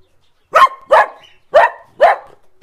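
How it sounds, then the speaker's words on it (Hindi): A dog barks four times in an even rhythm, loud and close, with short quiet gaps between the barks. "भाई जब भी वीडियो बनाता हूँ आ जाता है भौंकने के लिए"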